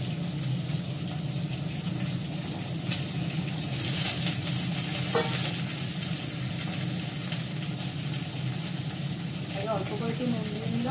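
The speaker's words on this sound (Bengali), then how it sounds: "একসঙ্গে পটল আলুটা ভালো করে ভেজে নিই।" Pointed gourd and potato frying together in oil in a pan, a steady close sizzle and hiss with occasional stirring scrapes throughout.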